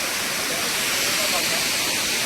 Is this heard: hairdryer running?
no